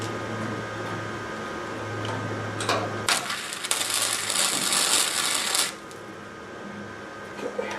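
Welding on a car's rear fenderwell, a harsh crackling buzz of a couple of seconds up close between quieter shop noise and faint hum.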